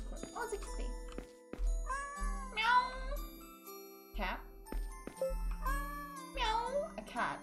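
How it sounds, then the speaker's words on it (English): Meows from a cat in a horror video game, two rising calls set against game music with chimes and low thumps, clear and close in the mix. "Oh, it's a kitty."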